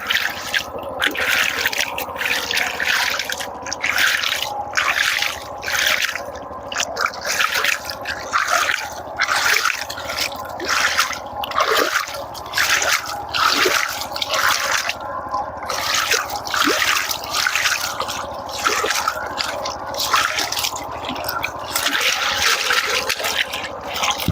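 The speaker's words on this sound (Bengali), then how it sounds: "অনেকদিন যাবৎ পাট ধোয়া হয় না এবার লোকজনের অভাবে পাট ধুছি গাইস দেখুন আমার পাট ধোয়া" Jute fibres being washed in water, with continuous splashing and dripping broken by regular rhythmic slaps and pauses as bundles are lifted and beaten, loud and close throughout.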